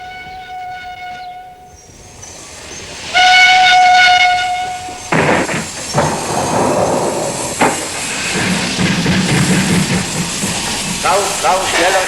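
A train pulls into Auschwitz: drawn-out whistle tones at the start, then a loud burst of hissing and a rolling clatter of cars that carries on to the end.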